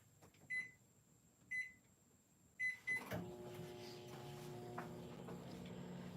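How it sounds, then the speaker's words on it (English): A microwave oven melting white chocolate: three short electronic beeps from the keypad, then the steady low hum of the oven running with faint rattling inside, fairly quiet and close. "So I have some white chocolate in the microwave."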